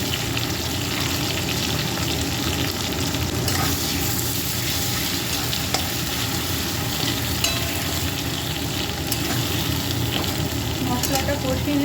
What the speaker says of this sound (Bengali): মশলাটা কষিয়ে নেব।